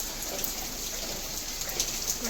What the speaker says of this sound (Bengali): বাইরের ওয়েদার পুরো জোরে বৃষ্টি হচ্ছে